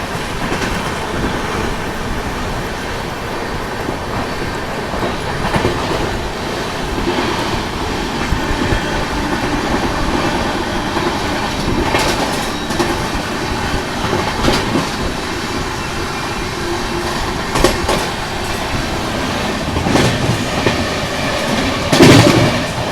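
A Lucknow–New Delhi superfast express train overtaking at speed, a loud, sustained roar of rolling wagons with rhythmic clickety-clack wheel beats and occasional brief squeals, close by throughout.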